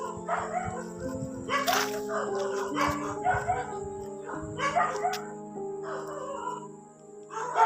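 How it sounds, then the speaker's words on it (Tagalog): Many dogs bark and yip outdoors at night near a basketball court, a steady stream of overlapping barks at moderate distance, with people talking over them. "Daming aso guys. Sobra."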